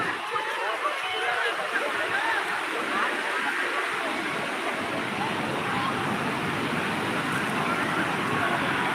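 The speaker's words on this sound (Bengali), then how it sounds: "সমুদ্র দেখো কত সমুদ্র" Sea waves rolling onto the beach at Puri, a steady broad wash of surf that fills the whole clip without break, close and fairly loud.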